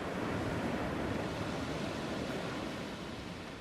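Ocean waves and surf roar in a dense, continuous wash of noise, loud and steady throughout with no voices, easing off slightly toward the end.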